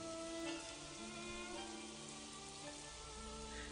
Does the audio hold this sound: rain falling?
yes